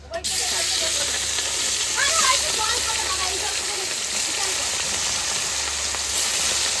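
Fish frying in a pan, a loud, steady hiss and crackle of hot oil running throughout, with a voice talking faintly underneath.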